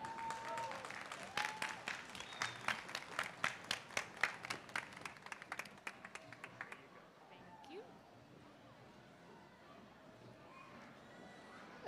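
Audience applause at a food-system talk event, a burst of clapping that rises into sharp, loud claps for several seconds and then dies away into quiet room tone.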